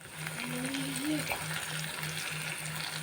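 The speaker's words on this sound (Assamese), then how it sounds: "বিলাহীখিনি গুৰি হ'ব লাগিব, অলপ সময় ভাজি পেলাই থৈ দিম।" Chopped tomatoes frying in a pan with green chillies, a steady soft sizzle with faint stirring clicks and a brief whistle-like tone, close and continuous.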